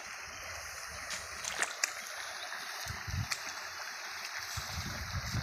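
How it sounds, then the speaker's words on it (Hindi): Floodwater pouring out of a submerged rice paddy field, a soft continuous rush and gurgle of flowing water with occasional small splashes, faint and steady throughout. "जैसे देखिए कैसे पानी जा रहा है खेत से"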